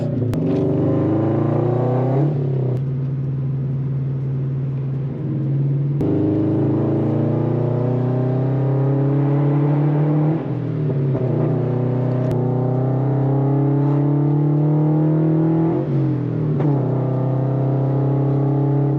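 A Scion FR-S sports car with a mild performance modification is driven through corners, its engine heard from inside with a steady drone whose revs climb, drop at each gear change and climb again in repeated cycles, continuous and fairly loud.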